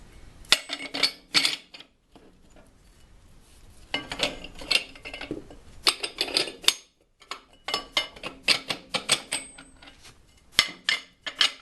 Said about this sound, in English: I'm going to change the dumbbells here, change the weight